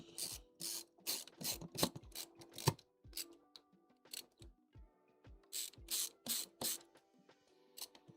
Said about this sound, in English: All these little screws put back in here.